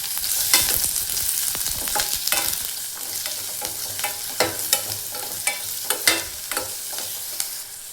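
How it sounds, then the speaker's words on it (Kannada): Garlic frying in a pan for sprouted horse gram sambar, a soft continuous sizzle broken by a run of sharp spatula scrapes and taps that grow more regular in the second half, close and without talk. "ಹಂಗೆ ಬೆಳ್ಳುಳ್ಳಿನೂ ಸೇರಿಸ್ಕೊಳತ್ತೇನೆ. ಈಗ ಫ್ರೈ ಮಾಡ್ಕೊಳ್ಳಿ."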